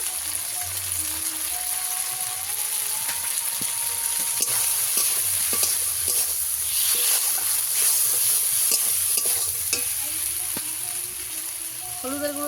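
Fish and potatoes fry in oil with chili powder in a pan, a steady bright sizzle with intermittent clinks and scraping stirs, close and continuous.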